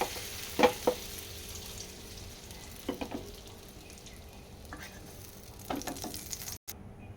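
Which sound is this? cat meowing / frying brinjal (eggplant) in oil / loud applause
frying brinjal (eggplant) in oil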